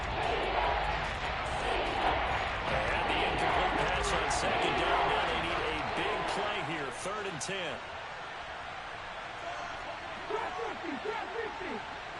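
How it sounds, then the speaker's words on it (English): Crowd noise in a Madden football video game, a dense roar of shouts and cheering that swells and fades, with a commentator talking over it. "Shouts from this crowd as they watch the replay."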